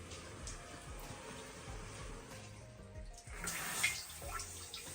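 Water sprays steadily from a toilet seat bidet nozzle onto a peach. The hiss is fairly soft and grows briefly stronger and more splashy near the end.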